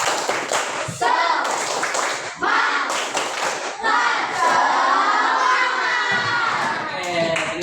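Children in a classroom do a rhythmic 'tepuk semangat' clapping cheer, with bursts of patterned claps alternating with shouted chant lines, loud and close throughout.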